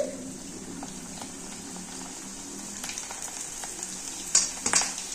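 Cabbage pakoda batter frying in hot oil on a lowered stove flame, a soft continuous bubbling sizzle with a few sharper crackles near the end.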